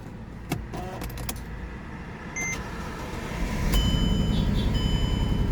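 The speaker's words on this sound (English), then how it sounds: "Car start fine." A 2008–2013 Mercedes-Benz E350 has keys jangling and a few chimes, then the engine starts with a brief crank and settles into a close, steady idle rumble.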